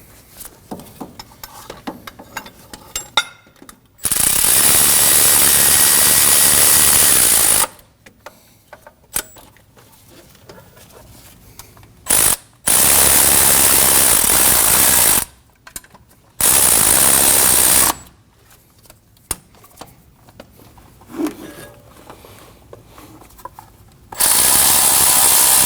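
A ratchet tightens the starter mounting bolts on a 2015-2022 Chevrolet Colorado with the 3.6L V6, heard as several loud, fast clicking bursts of a few seconds each, separated by quiet pauses.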